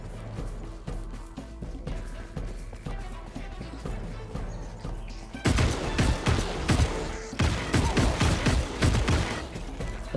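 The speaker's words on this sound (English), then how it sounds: "gunshots. Right over there." Rapid bursts of gunfire ring out in the Hawked PvPvE holiday heist event. The shots are sharp and loud and crowd together in a dense volley during the second half, after a quieter stretch of game ambience.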